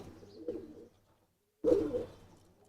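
Two close, throaty coos from Giribaj pigeons, separated by a moment of silence, with no other sounds around them.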